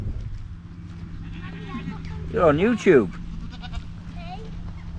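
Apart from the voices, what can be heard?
baby goats bleating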